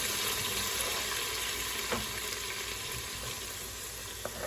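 Garlic frying in a pot on a stove turned down low, a soft steady sizzle with a faint clink or two, no talking.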